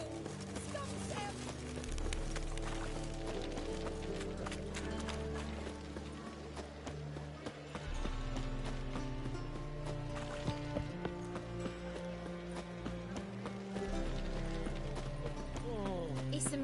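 In The Witcher 3, rapid, rhythmic hoofbeats of a galloping horse pound on and on beneath dense music and game sounds, with a brief whinny.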